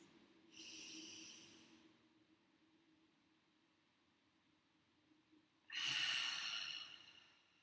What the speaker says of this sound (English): join me in a deep, calming breath